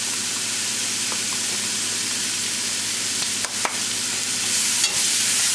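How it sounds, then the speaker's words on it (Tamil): Vegetable biryani masala sizzles and hisses steadily in a hot pan while being mixed, with a few scraping stirs cutting through the constant frying noise. "இது கொஞ்சம் நேரம் மிக்ஸ் ஆகட்டும்."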